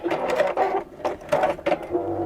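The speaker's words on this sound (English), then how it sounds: "It does help when you've got a really good sewing machine" A sewing machine stitches in short bursts, its motor whirring up and pausing between runs, close by.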